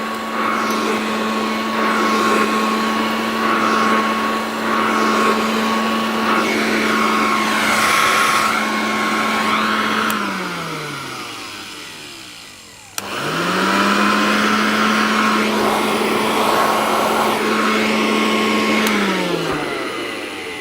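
A Hoover Dustette 2614B handheld vacuum cleaner runs loud and steady with a tonal motor whine, winds down around the middle, then starts up again and keeps running.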